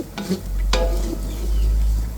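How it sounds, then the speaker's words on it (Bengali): Lentils fry in hot oil in a pan, a continuous sizzle broken by a couple of sharp scraping stirs of a spoon near the start. "আমি তেলের উপর ডালটা ভাজতেছি"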